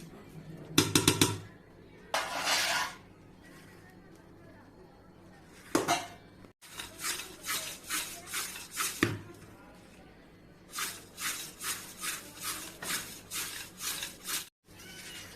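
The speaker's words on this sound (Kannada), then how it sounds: "ಅವಲಕ್ಕಿನಲ್ಲಿ ಸ್ವಲ್ಪ ಖಾರ ಉಪ್ಪು ಎಲ್ಲ ಹಾಕಿ ಅದನ್ನು ಕಲಿಸ್ಬಿಡೋದು" Fried poha being tossed with chilli and salt in a pan, heard as bursts of rhythmic scraping and clattering against the metal, a few isolated knocks between them, close and fairly loud.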